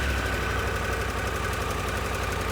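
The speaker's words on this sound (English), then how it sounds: "So pull the clutch in, push the button, and away she goes." A brand-new 2024 motorcycle engine, started with the clutch pulled in, settles into a steady idle, a continuous low rhythmic engine chug with a faint higher hum, moderately loud and close, with no talking.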